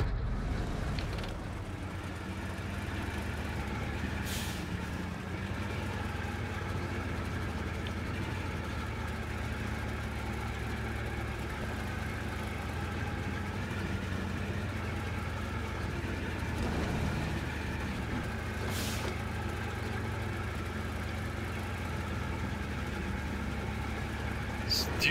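A ZIL-130 truck in the SnowRunner video game runs with a steady low engine drone at a constant pace, and brief higher bursts of noise cut in now and then.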